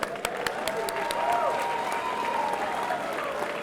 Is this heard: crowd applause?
yes